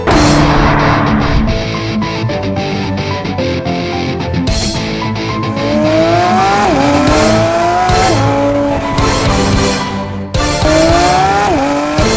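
A high-revving Porsche GT3 RS Weissach Package engine screams loudly up through the gears, with sharp rising pitch sweeps and brief breaks at each shift, close and continuous.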